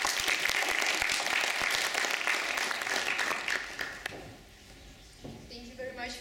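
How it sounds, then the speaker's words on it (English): Audience applause opening a peace summit event in a hall, a dense burst of clapping that thins and fades after about four seconds, with a voice speaking as it dies down. "let's give a round of applause to beginning of this event"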